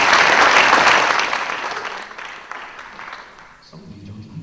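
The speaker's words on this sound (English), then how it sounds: "Give her a round of applause." An audience at an opening-night event bursts into loud applause that swells at once, then gradually thins and fades over several seconds, with no voice over it.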